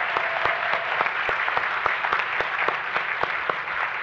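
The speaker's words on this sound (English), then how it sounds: "we want to give a round of applause for Rachel for coming up" Audience applause at a 2014 equity and social justice forum, steady dense clapping from a seated crowd filling the whole stretch, with individual sharp claps popping out regularly over the even wash.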